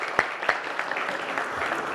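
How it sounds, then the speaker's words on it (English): Audience applause at a multicultural business forum, heard as a steady wash of clapping with a couple of sharper claps near the start, moderately loud throughout. "So, round of applause for all of them."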